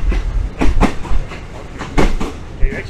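Train cars rolling along rails in Thailand, with rhythmic clickety-clack bursts of wheels over rail joints, close and fairly loud.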